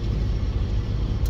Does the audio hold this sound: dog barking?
no